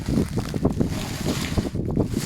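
Strong gusty wind buffeting the microphone, a continuous low roar and rumble with no other clear sounds.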